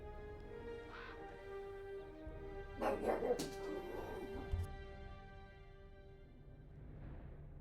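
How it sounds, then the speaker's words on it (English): A dog barks and yips a few times in the middle, loud then fading into whimpers, over steady game music and background hum, set off by a bird flying past. "My dog saw the bird flying and hated every second of it."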